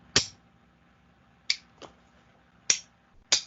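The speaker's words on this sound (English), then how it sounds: "I took one of my plastic spoons and I hit one of my toaster tongs with it" A plastic spoon taps a pair of toaster tongs five times at an uneven pace, each strike a short, bright click with a slight buzzing ring, heard close and alone.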